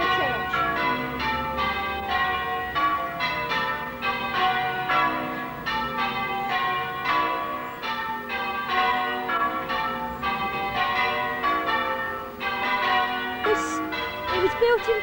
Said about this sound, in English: what's better than listening to the church bells at Clare Church?